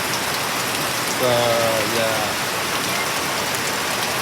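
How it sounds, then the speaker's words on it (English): Heavy tropical rain falls straight down in a dense, steady hiss that fills the whole stretch, with a faint passing vehicle hum partway through and someone speaking briefly over the downpour. "virtually straight rain"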